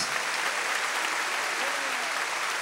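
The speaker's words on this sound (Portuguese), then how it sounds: "Você pode dar um aplauso ao Senhor, crendo nessa verdade" A church congregation applauds the Lord during a Lagoinha sermon, a dense, steady wash of clapping from a large crowd that holds evenly throughout.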